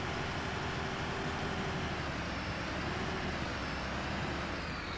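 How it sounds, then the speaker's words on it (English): A bus engine from the video game Bus Simulator 21 drones in a low, steady hum with a constant, dense rumble throughout. It plays alone, at a moderate level, with no talk. "I think they've changed the bus sounds as well, haven't they? That sounds a lot different."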